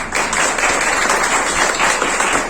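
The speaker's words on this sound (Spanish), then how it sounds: "que se regalen un fuerte aplauso en la noche de hoy" An evening audience applauds in a dense, steady burst of clapping at a live spoken event. It is loud and continuous for the whole stretch, with no talk over it.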